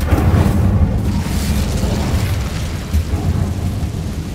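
A fiery burst from the Incendio fire spell in the video game Hogwarts Legacy, a loud booming whoosh up front that settles into a rumbling, crackling roar.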